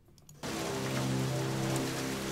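A looping rain sound effect plays in music production software, starting abruptly after a brief quiet moment and continuing as steady, dense, loud hiss with a faint low hum.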